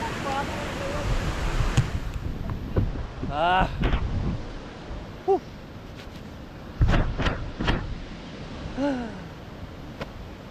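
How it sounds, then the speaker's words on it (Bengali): Steady rushing fountain water fills the background at Rock Garden, Mirik, during very heavy rain, while voices talk over it, with a few brief sharper sounds. "জলের আওয়াজ পাওয়া যাচ্ছে যথেষ্ট"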